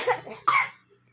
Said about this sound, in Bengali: ও সোনা কি কাশি হয়েছে।